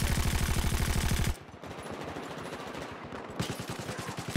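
Gunfire in a video game: a rapid automatic burst opens, then sparser shots follow before another fast burst near the end, all close and loud, with no talking.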